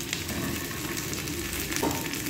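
Fried chicken tossed in a pan with about ten to twelve curry leaves, the flame already switched off: a loud, continuous sizzle of hot oil with stirring scrapes, no voices.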